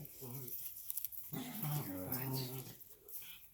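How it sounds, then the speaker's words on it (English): A dog makes whining, whimpering vocal noises close by, in several drawn-out tonal cries with short gaps, while a person speaks a word during the noises. "The noise you hear is my dog."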